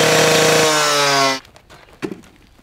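Power tool cutting a drain pipe for a driveway paving job: a loud, tonal, high-pitched saw whine with a drop in pitch, cut off abruptly, followed by quieter clatter and a brief knock.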